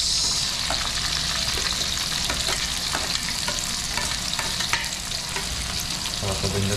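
Garlic and onion are stir-fried in hot oil, a loud continuous sizzle with scattered crackles and spatula scrapes throughout, and no talking over it.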